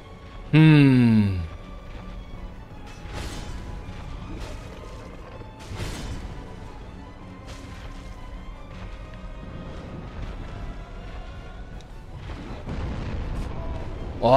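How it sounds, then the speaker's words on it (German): Deep booming explosions and crashes from Dark Souls: Remastered sound out repeatedly over a rumbling background, with one sharp electronic chirp near the start. "Explosionen und so."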